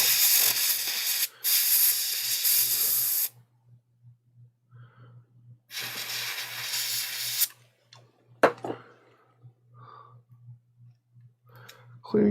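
Solder reball stencil for a Nintendo Switch CPU being cleaned with a loud spray, two long hissing bursts separated by quiet, over a steady low hum with faint clicks and handling noises.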